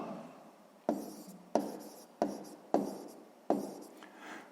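Pen or chalk writing an answer in a sixth-grade maths exercise: five sharp strokes at regular intervals, each a tap followed by a fading scratch, close and fairly quiet.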